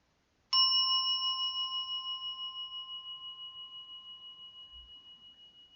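A meditation bell struck once to open a sitting ritual rings out clearly and alone, its pure tone sustaining with a slow, pulsing shimmer as it gradually fades.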